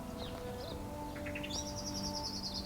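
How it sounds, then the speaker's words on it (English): Birds chirp and call around a backyard feeder at early morning, with scattered high tweets and one longer rapid trilling phrase set against steady low background noise. "There's a lot of activity on the bird feeder"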